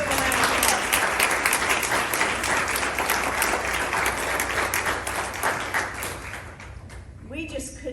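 A crowd at a foundation announcement for a compassionate care center gives the board of trustees a loud, full round of applause that holds steady and then fades, with voices rising near the end.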